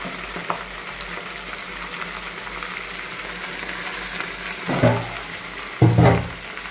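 Mutton frying in a kadai, a steady sizzle underneath with two louder bursts of stirring or scraping near the end.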